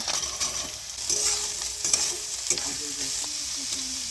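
Chopped onion, chili, ginger, garlic, beet and carrot sizzle in hot oil in a pan, a steady close hiss broken by a few spoon stirs and scrapes.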